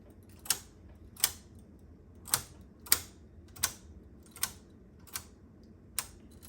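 Needles on a knitting machine being pushed out one at a time, each giving a crisp, sharp click at a steady, slightly uneven pace, eight in all, close and alone over a low background hum.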